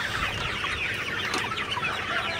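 A flock of Sonali or broiler chickens clucks continuously nearby in sweltering heat, many overlapping calls forming a busy, steady chatter.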